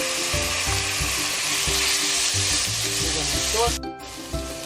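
Garlic and onion sizzle steadily in a hot pan on the stove, a continuous loud frying hiss with occasional stirring scrapes, ending with a brief drop and clatter.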